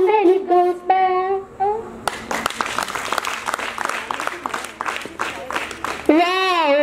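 Audience applause breaks out after a children's song about a waving flag, a burst of dense clapping lasting about four seconds, with singing before and after it.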